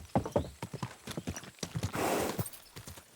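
Horse hooves clip-clop in a steady walking rhythm from a mount in the game Kingdom Come Deliverance 2, with a short whinny partway through, fairly close and clear with no talk over it.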